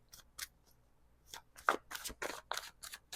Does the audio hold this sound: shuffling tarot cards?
yes